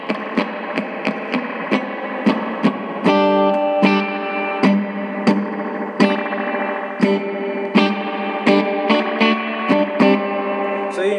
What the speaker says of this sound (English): Para may naririnig kayong nagbo-boink-boink na sound, yun yung spring.